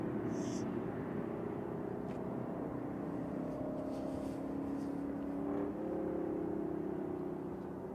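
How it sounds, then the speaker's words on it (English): TUI Boeing 787-8 arriving at Manchester Airport, a steady distant jet whine and low rumble lasting throughout, its droning tone slowly shifting pitch as it approaches, over outdoor background noise. "Got a 787-8 positioning in from Luton for TUI now."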